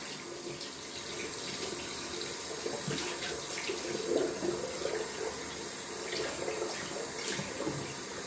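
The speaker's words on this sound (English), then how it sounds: "Yeah, we're gonna rinse that out. Wash out the brush." A tap runs steadily into a sink while a wet-shaving brush is rinsed out, giving a continuous close splashing rush with small irregular spatters throughout.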